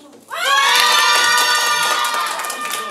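Students at a youth video storytelling camp erupt into a loud burst of cheering and shouting with applause after a short quiet start, a dense crowd roar that holds strong to the end.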